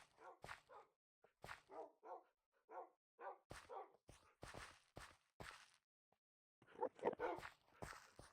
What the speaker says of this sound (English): Something has perturbed the dogs.